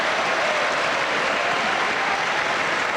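Dense, steady applause from a large tennis crowd at a Davis Cup final, a loud continuous wash of clapping with no pauses.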